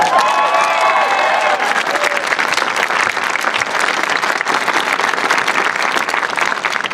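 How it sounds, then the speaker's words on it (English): A crowd at a Minnesota anti-bullying bill signing applauds loudly and steadily, with cheers and whoops rising over the clapping at the start before settling into continuous dense applause. "one more round of applause"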